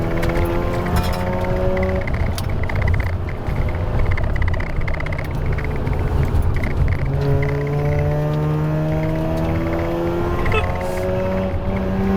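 A car on a mountain touge road runs with an engine misfire, its steady droning tone mixed with a rough, uneven stutter. The sound is loud and close, with gear changes shifting the pitch several times.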